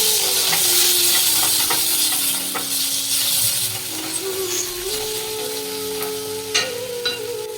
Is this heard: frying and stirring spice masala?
yes